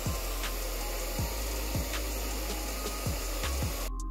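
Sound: hairdryer drying paint base layer

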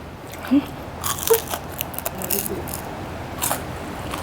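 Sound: eating crispy fried spring rolls, crunching

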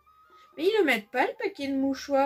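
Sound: cat meowing

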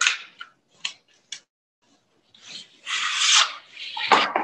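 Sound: chisel being polished on a sharpening stone

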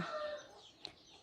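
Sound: chickens clucking and birds chirping outside a house

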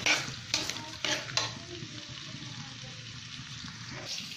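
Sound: chopped onions frying in pan

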